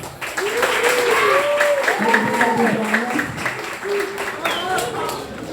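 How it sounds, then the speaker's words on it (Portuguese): Audience applause at a lecture on the Maria da Penha Law, with steady crowd clapping filling the room while a voice talks over it throughout. "Palmas, gente."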